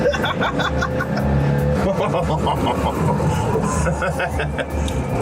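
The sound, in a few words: small rear-engine car accelerating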